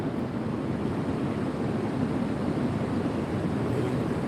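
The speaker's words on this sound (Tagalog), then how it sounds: "Ayan, ang ingay talaga ng dagat." Sea surf rolls steadily onto a shore thick with clinging shells, a continuous loud wash of breaking water with a windy rumble and no pauses.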